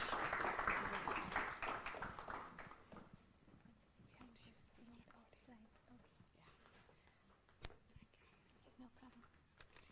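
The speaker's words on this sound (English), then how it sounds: "Just a clap as you come to the stage." An audience at a lecture on quantum physics and intellectual property claps as a speaker walks to the stage. Dense clapping fills the first few seconds, then thins and fades into a quiet room with scattered small noises.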